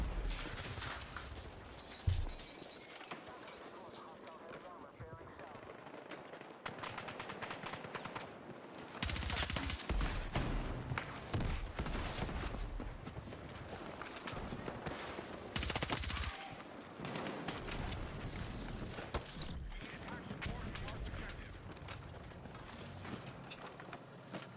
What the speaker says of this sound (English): let me shoot at the fucking tank